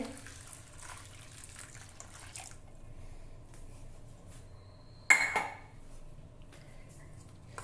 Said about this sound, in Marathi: ह्या गव्हामध्ये आपल्याला गरम उकळीचं पाणी घालायचं आहे